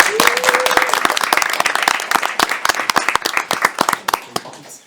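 A round of applause at a mayor and council meeting, dense clapping from a modest group of people, loud at first and thinning into scattered claps before fading out.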